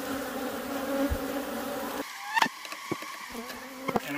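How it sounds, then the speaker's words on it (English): A honeybee buzzes close by the ear, a wavering hum that comes and goes in short surges against quiet outdoor background. "Oh, I got one buzzing right in my ear."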